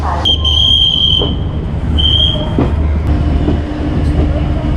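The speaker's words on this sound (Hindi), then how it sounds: "और सिग्नल भी हो चुका है और ट्रेन हमारी रवाना हो चुकी है।" Garib Rath Express train from Nizamuddin to Chennai departing and rolling, a steady low rumble of wheels with a brief high whistle tone near the start and occasional clanks.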